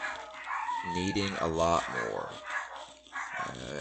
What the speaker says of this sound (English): I'm sure you guys can hear the dogs going off in the background.